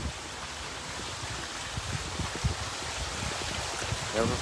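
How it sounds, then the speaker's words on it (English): Water fountains surround a large eagle statue at Eagle Square in Langkawi, Malaysia, beside a river. A steady rushing splash of falling water carries throughout, with faint voices nearby. "চারদিকে পানির ফোয়ারা আছে"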